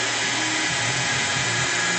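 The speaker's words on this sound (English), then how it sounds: "You want to always keep your buffer moving." A handheld power buffer runs a pad across a surface, a steady, even machine whine with a low hum that holds without pause for the whole span, close and fairly loud.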